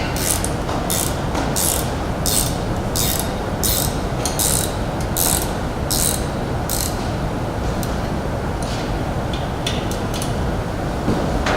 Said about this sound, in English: Loosen the hold-down bolts for the top of the liner.